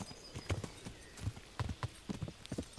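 Horse hooves clip-clopping on a ridden horse in Kingdom Come: Deliverance, a steady trotting rhythm of soft thuds at moderate distance, fairly quiet over faint ambient background.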